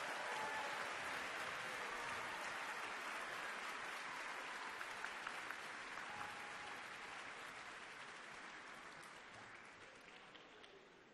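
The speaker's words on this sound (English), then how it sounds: "Another round of applause, three," Sustained audience applause at a Tuba Christmas concert, cheering a children's choir; a dense, steady wash of clapping from a large crowd that holds for about eleven seconds and slowly tapers off near the end.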